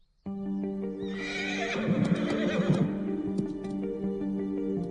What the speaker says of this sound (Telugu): వీటిలో నీకు నచ్చిన గుర్రాన్ని సెలెక్ట్ చేసుకో